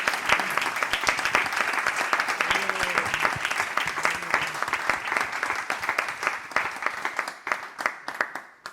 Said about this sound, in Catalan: Un fortíssim aplaudiment,